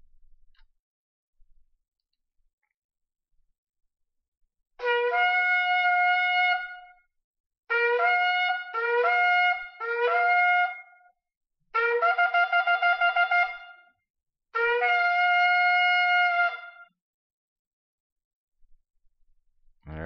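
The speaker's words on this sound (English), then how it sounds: "we are going to listen to the sound of the shofar" A ram's-horn shofar is sounded in a series of five strong, brassy blasts separated by short silences, some blasts broken into quick staccato bursts and others held longer, clear and close with no talk over them.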